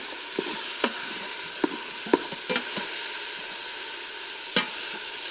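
Ground meat being crushed and broken up with a spatula in a pressure cooker for spaghetti, giving scattered soft scraping clicks over a steady sizzling hiss, with no talking.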